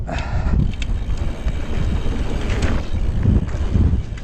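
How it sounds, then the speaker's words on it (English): Gusty wind buffeting the microphone in rumbling low bursts, with faint mechanical rattles in the background. "It's quite windy here actually, but it's a headwind"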